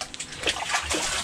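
Water splashes and sloshes briefly as freshly caught fish from a pond are washed, a close, quick burst of splattering.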